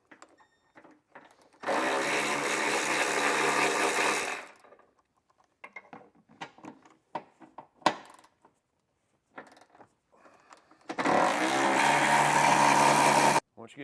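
A power tool removes bumper beam bolts on a 2023 Porsche, with two loud sustained whirring bursts separated by clinks and rattles of metal parts and tool handling, close by.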